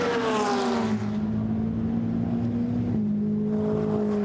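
Lamborghini and GT race cars roar past the pits at Paul Ricard during a Blancpain GT Sports Club race, a loud sustained engine drone with a pitch drop as one passes and another following closely.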